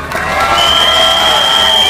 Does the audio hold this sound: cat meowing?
no